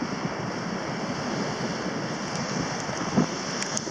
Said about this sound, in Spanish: la ola está pasando por arriba